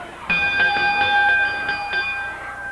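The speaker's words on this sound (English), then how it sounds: "Referee says ring the bell." A wrestling ring bell is rung at a Memphis TV wrestling match, giving several quick clanging strikes with ringing overtones that fade out, loud and close.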